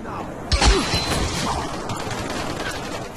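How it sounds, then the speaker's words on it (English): Video game gunfire bursts out in a loud cluster of sharp shots, then trails into scattered crackling impacts with rumbling background noise. "Death by gunshots."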